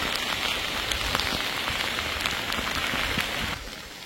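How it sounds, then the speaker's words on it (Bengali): Heavy rain pours on a steep mountain trail near Alikadam, Bandarban, a dense, steady hiss close all around that eases slightly at the very end, with no talking. "মারাত্মক বৃষ্টি পড়তেছে,"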